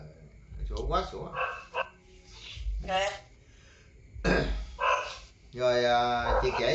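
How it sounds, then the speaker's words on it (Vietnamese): A dog barks in several loud bursts close by indoors, with speech mixed in between and over the barks. "Sủa quá sủa."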